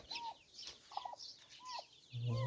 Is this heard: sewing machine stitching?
no